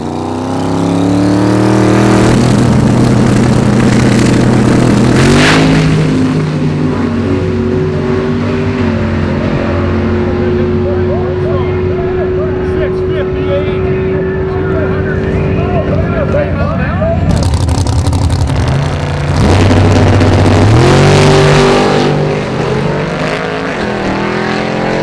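Race car engine at Sick Week drag racing event, a loud sustained drone that rises in pitch as it revs, drops, then surges again near the end, with people talking over it.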